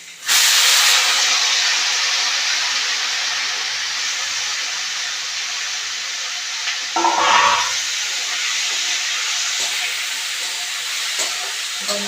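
Carrots go into a frying spice mix in a pan on a gas stove, setting off a sudden loud, steady sizzling hiss that eases slightly and carries on, with a brief clatter partway through.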